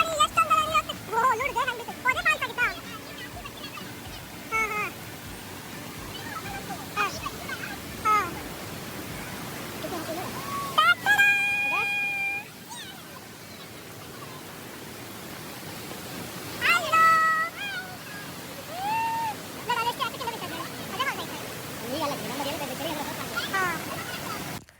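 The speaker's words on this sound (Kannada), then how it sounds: "ಎಷ್ಟೊಂದೆಲ್ಲ ನೀರು ತುಂಬ್ಕೊಂಡು ಹರಿತಾ ಇದೆ ಅಂತ ನೋಡಿ." A rain-swollen river rushes along and drops like a waterfall, a continuous broadband roar heard throughout beneath several people talking.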